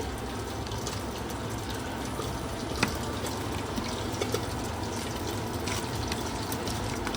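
A hilsa fish head is washed under running water, giving a steady, close rush of flowing water with faint splashes and no voices over it.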